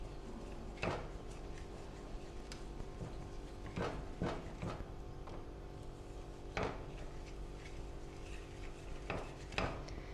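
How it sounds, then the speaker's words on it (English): A whisk works cocoa pudding mixture in a pot, its faint, irregular scrapes and taps landing against the metal sides over a steady low hum, with no talk. "So just make sure you keep whisking"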